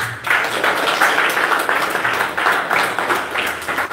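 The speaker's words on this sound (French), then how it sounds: "Applaudissez pour lui." Crowd applause, a dense continuous patter of many hands clapping, fairly loud and sustained throughout.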